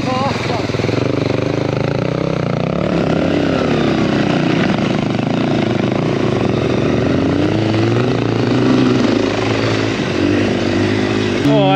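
Honda XR100R dirt bike engine revving as it rides through snow, a buzzing high-pitched drone that rises and falls with throttle, close and continuous, with voices talking over it.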